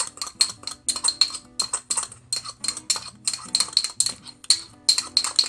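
Spoon mixing cinnamon into white sugar in a bowl, rapid rhythmic clinks and scrapes repeating steadily, close and crisp, with no voices.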